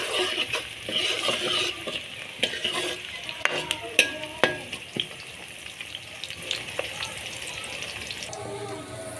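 Whole spices including cloves, cinnamon, black pepper and cumin roasting in a pan, with a continuous sizzle and repeated sharp clinks and scrapes of stirring up close.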